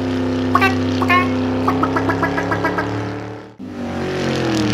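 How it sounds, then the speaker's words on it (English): A Chevrolet Camaro hot rod engine idles with a lumpy, pulsing rumble and a series of rhythmic throbs, dips briefly near the end, then settles back into a steady, close drone. "Camaro. C-A-M-A-R-O."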